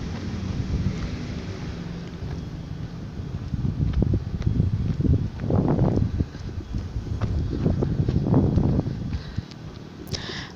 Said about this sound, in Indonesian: itu suara angin. Ini di sini anginnya lumayan kencang nih,